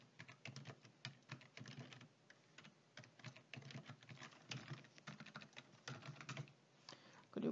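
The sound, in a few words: pressing Tab key on computer keyboard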